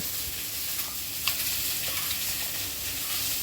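Onions fry in a pan as the base for a thick-gravy chicken curry, making a continuous, even sizzle with faint pops and a few light stirring taps, and no one talks.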